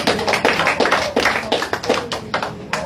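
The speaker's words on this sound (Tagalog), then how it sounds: "Palakpakan natin ang Panginoon." Congregation clapping for the Lord during a Filipino church worship service, a burst of sharp, irregular handclaps in uneven rhythm, close and fairly loud, with no talking over it.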